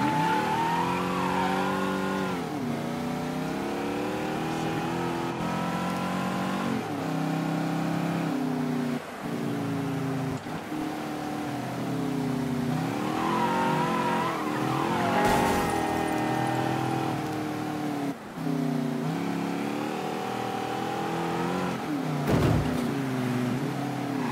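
A car in the Mafia III video game revs and accelerates hard, its engine pitch climbing and dropping through repeated gear shifts, with brief tire skids mixed in, loud and continuous throughout.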